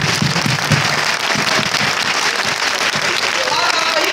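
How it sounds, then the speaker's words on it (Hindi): A crowd at a children's spiritual gathering in Ghaziabad claps loudly for the participating youngsters, a thick sustained roar of applause with voices mixed in. "उन सभी के लिए आप एक बार जोरदार तालियां बजाएं"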